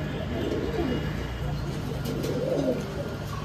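Pigeons cooing at a pigeon farm in Rajshahi: soft, low coos come through a steady background hum and noise, close by and continuous.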